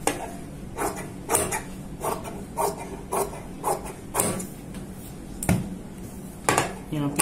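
Scissors cut cloth while trimming a margin around a stitched neck design, giving a series of sharp, close snips spaced unevenly at roughly half-second to one-second intervals, with quiet handling sounds between.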